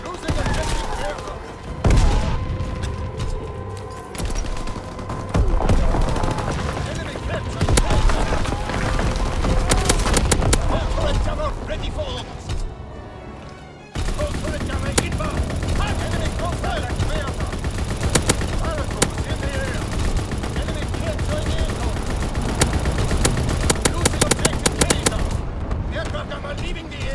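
Anti-aircraft flak guns firing in a WW2 video game, dense rapid bursts of gunfire and booms that continue almost without pause, loud and close, with game voice lines mixed in.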